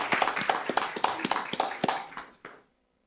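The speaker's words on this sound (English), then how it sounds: "Let's give her a round of applause." An audience at a school board meeting applauds a certificate recipient: a short burst of brisk, fairly close clapping that stops abruptly after about two and a half seconds.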